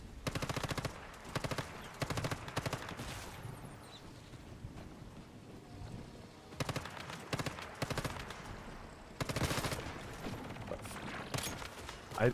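Bursts of SMG fire in the video game Star Citizen, rapid automatic volleys in several loud clusters separated by quieter gaps, with no talking.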